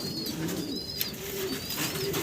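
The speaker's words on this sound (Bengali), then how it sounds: "বিশাল সাইজের ভিতরে আরো এক জোড়া পটার কবুতর দেখাচ্ছি।" A pair of large moon pouter pigeons from a fancy pigeon collection cooing, a low, rolling coo repeated close by against a steady background of other birds.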